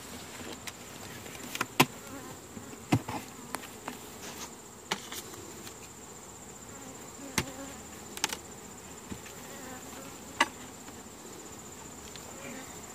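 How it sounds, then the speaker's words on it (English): Honeybees swarming around an open hive being closed up, a constant soft buzz with sharp close clicks and taps of hive parts knocking together scattered throughout. "You want to be careful not to crush too many of the bees."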